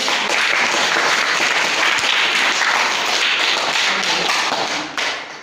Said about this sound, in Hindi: इसमें ताली बजाओ बच्चों।